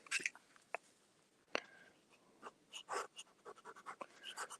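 A Sterling fountain pen nib moves across paper, making faint, close, scratchy strokes and small taps in an irregular rhythm, quiet with no voice.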